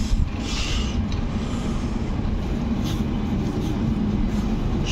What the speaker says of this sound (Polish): To są te pociągi.